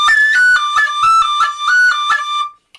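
A tin whistle plays a D with all fingers covering the holes, as in the tune The Lark in the Morning. About eight short tongued notes sound close and loud in a quick, even rhythm, then stop sharply near the end.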